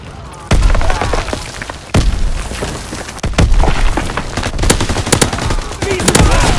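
Bursts of MP40 submachine gun fire in a WWII shooter match, loud rattling volleys broken by several sharp heavy booms and thuds, close and punchy throughout.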